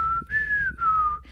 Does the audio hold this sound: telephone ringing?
no